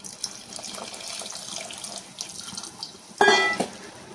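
Water is poured onto tamarind to extract its juice for a Telugu drumstick gravy, running and splashing softly in the background before a louder, closer gush near the end.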